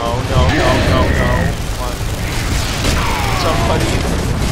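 Gunfire and explosions rumble through a Gears of War 3 co-op battle, dense booms and bursts under excited voices and combat chatter throughout.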